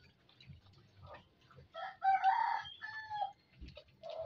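Backyard rooster crowing loudly at close range in the middle of a stretch of softer clucking from the hens around it, set against a quiet low background.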